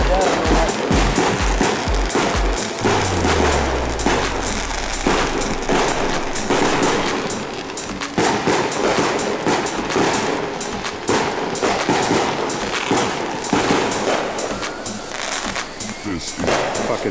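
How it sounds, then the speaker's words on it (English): Backyard fireworks burst in a loud, dense barrage of cracks and bangs, with a falling whistle early on, at close range and continuous throughout. "fucking backyard fireworks and shit"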